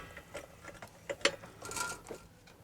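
A trolley jack slowly lowering a motor, heard as faint close mechanical clicks and ratcheting ticks with a few small metallic knocks and a brief scraping rustle, no talking.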